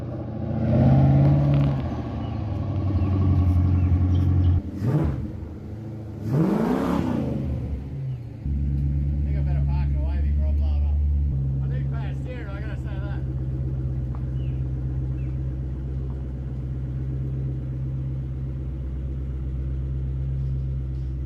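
A homemade wasteland vehicle drives with a loud, rumbling engine that revs up, drops back and shifts through gears, staying close throughout. A voice speaks briefly over the engine noise.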